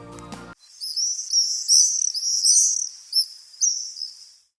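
Swallows give high, thin twittering calls in an irregular series of chirps lasting several seconds, fairly faint and alone after a brief burst of other sound at the start.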